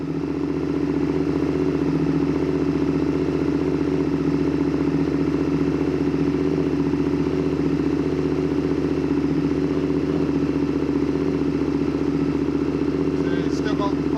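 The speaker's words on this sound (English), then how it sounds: "So you see it was idling." A Honda VTR Firestorm motorcycle engine with a cylinder vacuum imbalance idles steadily and close by, a continuous even rumble for the whole stretch.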